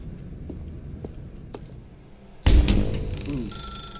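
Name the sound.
telephone ringing in the video game The Stanley Parable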